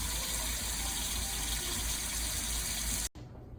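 Water running from a tap into a big pot of potatoes, a loud continuous gushing fill that cuts off abruptly near the end, leaving a quieter hiss.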